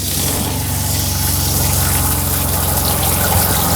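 Water runs from the pull-down shower head in a Winnebago View RV, a steady hiss of spray over a continuous low pump hum, close and alone.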